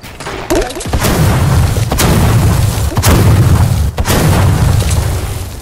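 Gunfire in a squad battle royale video game: loud, heavy booming shots landing at roughly one-second intervals over a continuous, dense rumble of combat noise.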